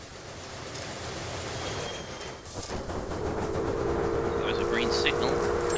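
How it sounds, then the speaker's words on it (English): A train in the Railway Empire video game rumbling along with a continuous rolling clatter, a faint whistle-like tone early and a steady hum building in the second half. "The train will stop to fill up on lubricants, oil, lubricants, water, and sand."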